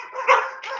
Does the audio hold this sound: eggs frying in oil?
no